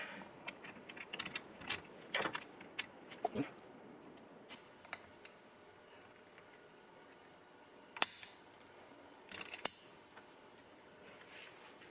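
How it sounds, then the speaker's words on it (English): Metal gears and small parts are fitted into the bottom end of an RZ350 motorcycle engine, giving sparse light clicks, taps and ratchet-like ticks, quiet and close, with a couple of louder metallic knocks. "This gear goes right on top of that gear"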